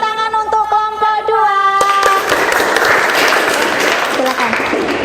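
Audience applause for a presenting group in a classroom teaching-practice session: a brief tonal passage, then from about two seconds in a dense, sustained wash of many hands clapping that carries steadily to the end.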